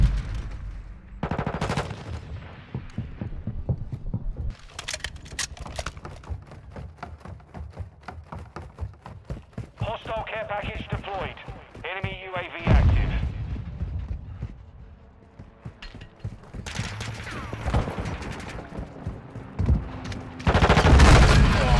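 Rapid gunfire from the Modern Warfare 2 beta shooter game, bursts of automatic fire and single shots close and loud, mixed with in-game mechanical clatter and brief voices.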